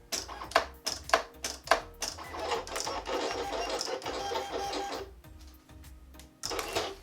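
A vinyl cutting machine makes a slow test cut on an intricate Halloween T-shirt design, giving a close, steady mechanical whir with rapid stepping clicks and short motor bursts, and pausing briefly near the end.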